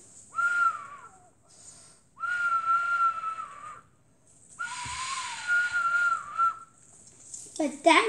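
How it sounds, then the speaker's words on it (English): Someone whistles with their mouth in three long, steady notes separated by short pauses, followed by a brief noisy scuffle at the end. "You can whistle like this in your mouth too."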